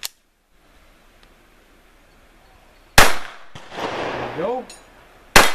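A few sharp, close shots from a lightweight Ruger 22/45 Lite .22 pistol fired at steel targets, each crack spaced seconds apart with a metallic ring between, and someone speaks briefly midway.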